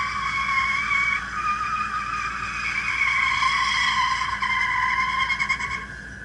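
A Mustang Cobra drag racing at night, with a loud sustained tire squeal and engine roar close by that rises in pitch as it accelerates, then fades slightly at the end.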